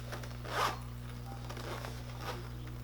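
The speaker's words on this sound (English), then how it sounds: "Let me just zip that back up." A travel makeup bag zipped shut, one quick zipper pull rising to a brief peak near the start and a softer second pass later, close and fairly quiet over a steady low hum.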